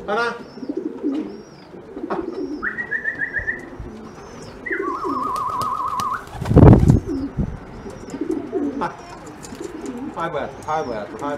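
Racing pigeons coo in a loft, with repeated soft throaty calls, a burst of wing flapping midway, and scattered chirps around them while a person talks nearby.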